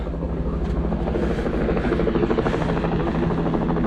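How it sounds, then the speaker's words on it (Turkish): A helicopter lifting off again near the rock at Guatapé, Colombia, a loud, steady rotor thump and engine drone that stays close and constant throughout. "Helikopterimiz tekrardan havalandı."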